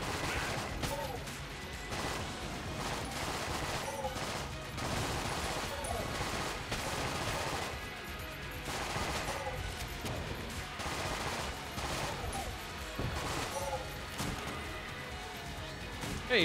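Gunfire in the video game Enter the Gungeon, with repeated bursts of shots, crashes and impacts sounding throughout over busy game music and effects, while someone talks over part of it.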